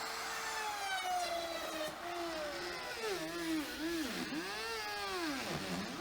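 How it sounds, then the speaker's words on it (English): A router cutting holes in half-inch imported birch plywood cornhole boards in a production shop, a steady high motor whine that dips and rises in pitch as the bit loads in the wood, sustained and close. "and then use a router"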